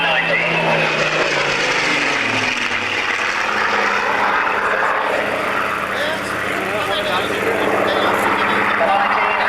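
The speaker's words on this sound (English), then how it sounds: "eyeball to eyeball with the Spitfire 19." A photographic reconnaissance Spitfire 19 flies past at the Weston Park Air Pageant, its engine roaring in a loud, continuous drone while an announcer speaks over it.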